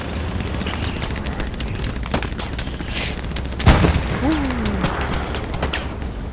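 Frag grenade blast in the World War II shooter Hell Let Loose, a single heavy boom midway through amid a steady crackle of distant rifle and machine-gun fire, with a brief voice nearby.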